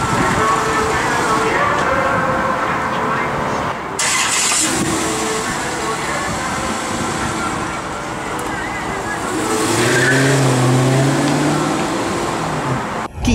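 2014 Dodge Charger RT driving on the road, a steady loud engine and road drone with a brief rise in revs, while people talk inside the car over it.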